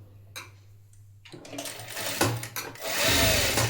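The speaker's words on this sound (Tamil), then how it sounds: "இப்போ நம்ம சுற்றி நம்ம தையலை போட்டு எடுத்துப்போம்." A sewing machine stitching around a blouse neckline starts after a quiet pause and builds to a close, steady mechanical whir with a rapid stitching chatter that grows louder toward the end.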